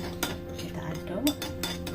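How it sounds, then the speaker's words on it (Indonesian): Soft scraping and clinking of a utensil against a pan as food is stirred, with a few brief metallic taps, fairly quiet and close. "Kita aduk."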